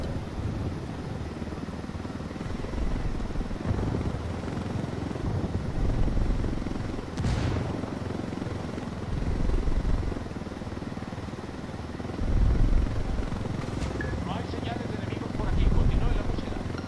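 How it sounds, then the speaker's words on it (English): A video game helicopter gives off a steady rotor chop and engine drone at moderate level, with a few louder surges and sharp bursts along the way, while players talk over it. "Okay, we got the helicopter."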